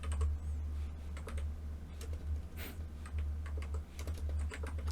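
Typing on a computer keyboard, a run of light, close key clicks in an uneven rhythm over a steady low hum, with no voices.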